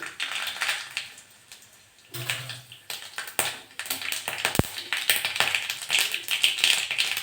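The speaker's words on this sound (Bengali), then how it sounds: "তেলটা গরম হয়ে গেছে, সর্ষে ফোড়ন দেবো।" Mustard seeds spluttering and popping in hot mustard oil in a pan for a raw-and-ripe mango chutney, a fast irregular crackle of sharp close pops with a sharper burst midway and a brief dull knock.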